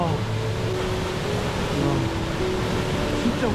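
Heavy water roar of Towangseong waterfall in Seoraksan during heavy rain, dense spray thundering steadily and loud up close, a broad continuous rush with no break.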